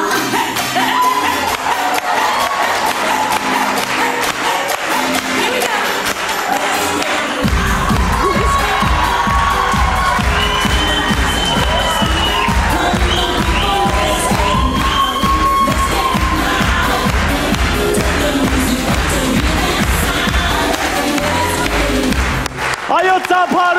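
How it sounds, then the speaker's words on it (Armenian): A loud crowd cheers and applauds for a dancer's performance at a televised club show, sustained throughout, with a steady rhythmic beat of music running underneath from about a third of the way in. "Այո, ծափարությունները Խուան Թովմասյան"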